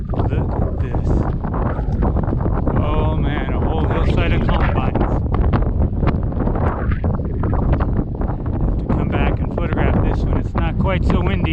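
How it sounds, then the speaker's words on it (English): Strong wind blows outdoors in the high mountains, buffeting the microphone with constant rushing noise and sharp gusts, while a voice speaks intermittently over it. "Quite so windy."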